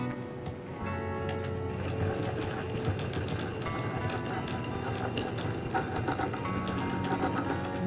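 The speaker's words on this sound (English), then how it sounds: "So now we're just going to top stitch this next." Sewing machine top-stitching fabric for a pair of toy badger dungarees, a fast steady mechanical whirr with rapid needle ticking that runs almost the whole time, close and unbroken, with no voices.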